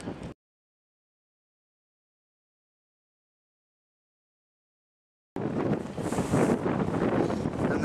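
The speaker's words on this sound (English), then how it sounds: "As you can hear, it's really, really windy now." Strong gusty wind buffeting the microphone outdoors during early spring fishing, a loud rumbling roar that bursts in after a long silence and keeps surging, preceded by a brief fragment of sound.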